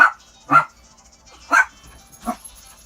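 A dog barks four times, short sharp woofs spaced about a second apart, fairly close and clear against a quiet background.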